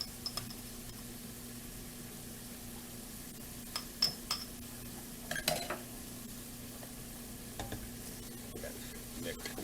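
Minced garlic sizzles steadily in a pan at low level, with occasional clinks and scrapes of a utensil as it is stirred in.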